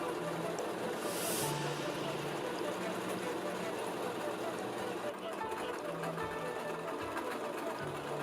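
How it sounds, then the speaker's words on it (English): A sewing machine stitches a T-shirt quilt in a steady rapid mechanical whir with rhythmic needle clatter, close and continuous, while a voice talks over it. "it's tough getting it through this sewing machine in such a tight area"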